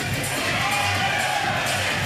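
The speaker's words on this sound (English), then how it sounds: "That crowd likes that shot, Morgan," A pickleball crowd cheers and whoops after a shot at a Tuesday night match, a sustained roar of many voices with scattered shouts rising over it.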